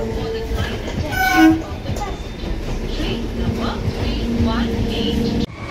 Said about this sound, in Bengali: আমাদের ট্রেন কিন্তু চলে আসছে